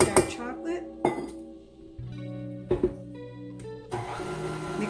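Dark chocolate being mixed into vegan chocolate cake batter in a bowl, with irregular utensil clinks and scrapes against the bowl, some louder knocks, and steady background hum.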